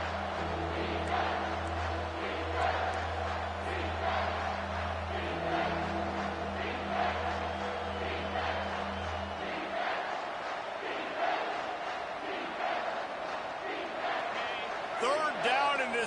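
Stadium crowd in a college football video game, a dense continuous roar of cheering throughout, with a sustained low horn-like tone in the first part and a commentator talking over it.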